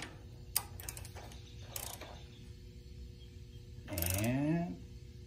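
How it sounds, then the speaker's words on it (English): A torque wrench tightens a spark plug on a Kubota zero-turn mower, giving a few sharp ratcheting clicks over quiet background hum, followed by a brief whirring mechanical sweep. "set your torque wrench to 16 foot-pounds"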